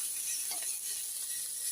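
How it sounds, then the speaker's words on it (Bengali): Fish, apparently river prawns, sizzle in a frying pan, a steady hissing crackle of hot oil that stays close and even throughout. "এই দেখো আমার মাছ ভাজা হয়ে গেছে,"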